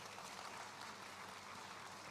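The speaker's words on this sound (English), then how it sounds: "Please, a round of applause for her." Audience applause at an opening ceremony of the Africa Prosperity Dialogues, a broad, steady wash of clapping that stays fairly faint and even throughout, with no voices standing out.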